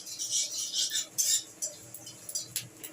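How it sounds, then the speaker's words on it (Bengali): Radhuni seeds dry-roast in a pan while a spoon stirs them, giving short bursts of scraping and metallic clinking against the pan with brief quiet gaps between. "আমি এটাকে একটু ড্রাই রোস্ট করে নেবো"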